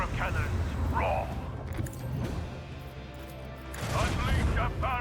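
Macro cannons on a starship in the game Rogue Trader fire in rumbling, booming volleys, a dense low roar that swells at the start and end, with brief voice-like calls mixed in.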